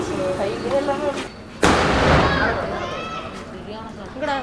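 A fancy colourful Lima Fireworks cracker goes off in one sharp loud burst, followed by a crackling, fizzing decay, with people talking before and after it.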